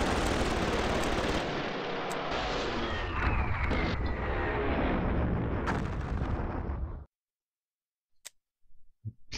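Units firing in Panzer General 3D during a WWII campaign battle at Tokyo, a dense, loud roar of artillery and gunfire lasting several seconds that cuts off abruptly, followed by a few faint clicks.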